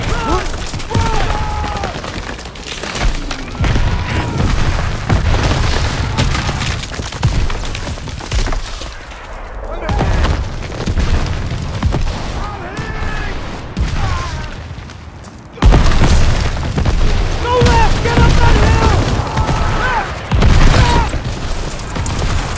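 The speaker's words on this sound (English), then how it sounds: "Artillery!" Artillery shells explode across a World War II battlefield in Call of Duty WW2, with repeated heavy booms and crashing blasts following one another closely and loudly, and scattered shouting voices in between.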